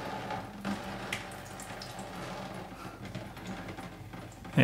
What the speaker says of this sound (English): loosen those up, let the water drain out